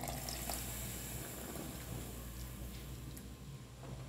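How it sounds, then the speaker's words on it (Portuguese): Water poured into a cooking pot while making fish-head pirão, a continuous soft splashing, trickling wash heard close and fairly quiet, with no talk. "Colocar água, ó."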